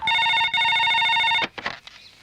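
A telephone rings in a Tamil comedy film scene after a number is redialed: a loud, bright, rapidly pulsing ring with a brief gap, cutting off after about one and a half seconds into scattered rustling noises.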